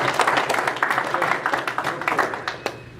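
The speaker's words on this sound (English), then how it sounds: "So clap it up for Jake real quick." Brief burst of audience clapping at a business meeting, a few hands patting irregularly and fading toward the end.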